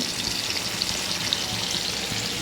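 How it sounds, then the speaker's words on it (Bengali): Hilsa fish fry in a pan with a steady, close sizzle and fine popping crackle of hot oil, continuous throughout with no talking. "ফ্রাই করতেছি।"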